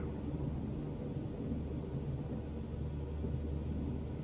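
Deep thunderstorm rumble in Microsoft Flight Simulator 2020 during a Cessna C172 G1000 flight, a steady low roar with broadband noise that holds at a fairly even level throughout, with no voices over it.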